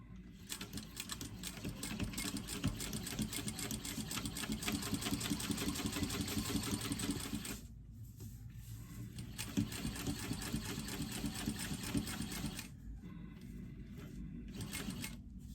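A sewing machine runs in long continuous bursts while basting fabric for a tote bag, its steady rapid stitching loud and close, stopping briefly around eight seconds and again near the end with short pauses between runs.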